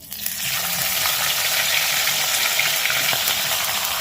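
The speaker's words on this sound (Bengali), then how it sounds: "এটা হলো কাতলা মাছের মাথা এটাকেও ভেজে নেবো ভালো করে" A catla fish head fries in hot oil, a steady, dense sizzle with faint crackle that holds evenly and close throughout after a brief quieter start.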